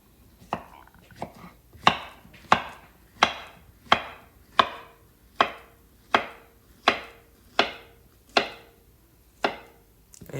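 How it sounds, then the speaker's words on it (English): Knife chopping plantain into small pieces on a board, a close, sharp series of about fourteen evenly spaced thuds that settle into a steady rhythm, with no talk. "I have to cut the plantain into small pieces so it can blend very well"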